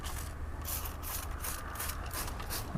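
A spray bottle of Adam's wheel and tire cleaner is pumped several times, giving close, rhythmic hissing and ratcheting trigger strokes over a steady background noise.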